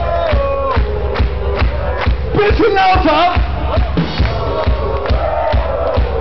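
Large concert crowd at an outdoor show shouting and cheering together, loud and continuous, with a voice briefly speaking over the roar.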